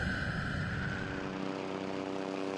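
An L39 Albatros jet flies over a Kalahari pan during land speed record tests, a steady, faint engine roar that holds at one level throughout with a high whine layered on top.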